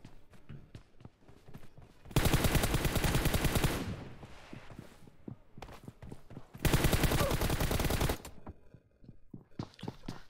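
Two long, rapid bursts of automatic gunfire from crouching and shooting without a scope in a close-range video game fight, loud and continuous, separated by quieter footsteps and small game sounds.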